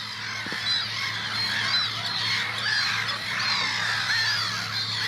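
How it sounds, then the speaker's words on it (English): Gulls and terns call at a nesting colony on Brownsea Island, with a black-headed gull being begged for food; repeated harsh, nasal squawks overlap close by in a continuous chorus. "The black-headed gull getting begged for food here has just come in."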